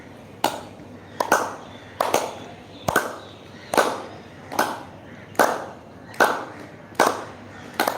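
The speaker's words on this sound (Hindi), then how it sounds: "संपुट का आकार गोलाकार घुमाते हुए ताली बजाएं।" Hands clapping in a yoga exercise with circular arm movements, about ten sharp, loud claps at a steady, slightly uneven rhythm, each with a short ringing tail, with no talking.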